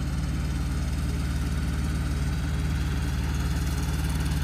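A tractor engine runs steadily in a continuous low, rumbling drone with a regular throbbing pulse, loud and close with no talk over it.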